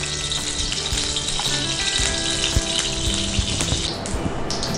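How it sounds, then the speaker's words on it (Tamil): Oil pours into a kadai for stuffed brinjal masala, giving a close, steady liquid hiss and gurgle that stays continuous and fairly loud for the whole few seconds. "அதே கடாயில் நம்ம இப்போது ஆயில் ஊற்ற போகிறோம்"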